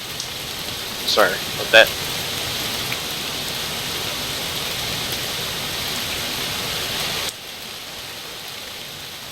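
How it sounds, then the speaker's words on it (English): Rain falling steadily in the video game DrizzlePath: Genie, a continuous hiss of moderate loudness with a couple of brief sharp sounds early on, a short spoken apology, and the rain cutting out near the end. "It's raining harder now."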